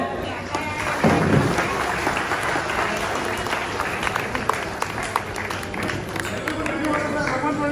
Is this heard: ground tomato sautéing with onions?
no